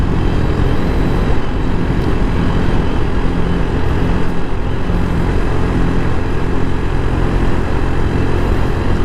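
A 2024 CSC San Gabriel 250 motorcycle engine holds about 5,000 RPM in fifth gear at roughly 45, a loud, steady drone mixed with wind rush for the whole stretch.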